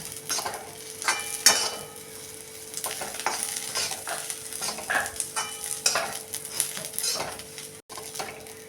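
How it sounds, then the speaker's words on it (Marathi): Okra stir-fried with salt in a pan for a masala fry, with a steady sizzle under repeated scraping and clinking of a spatula against the pan, close and alone without voices. "भेंडी आपण एकसारखी परतून घेऊया"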